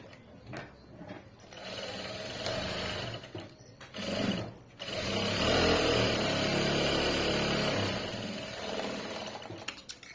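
A household sewing machine stitches fabric in a few short starts and stops, then settles into one long, steady motor whir that runs close and loud without any talk.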